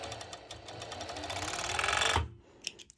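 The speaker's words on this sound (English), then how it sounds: "I will serge it over" A serger overlocks the edge of bikini fabric in a fast, continuous whirring run lasting about two seconds, then stops abruptly, followed by a soft click.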